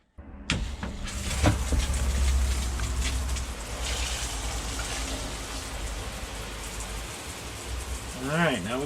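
Pink antifreeze spraying through an RV shower while winterizing the camper, a steady hissing rush of running liquid throughout, with a brief knock near the start and a faint voice near the end.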